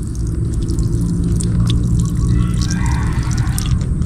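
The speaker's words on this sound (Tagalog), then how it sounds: "alisin po natin yung kanyang tubig at ipupunla po natin siya" Water drains from soaked papaya seeds in a steady, close trickle with scattered drips, loud and continuous throughout.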